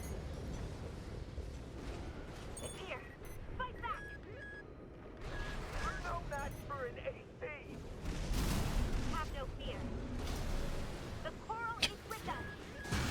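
Missile impacts and explosions rumble through combat in the mech game Armored Core VI, with broadband booms swelling around the middle amid game sounds and music, and voices talking over the action.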